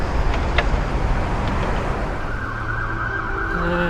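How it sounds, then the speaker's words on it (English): An ambulance siren near a motorcade boarding area in Washington, DC, rising steadily and sustained over a loud wash of street and traffic noise, fairly close and strong throughout. "And what's that, fire truck? Ambulance."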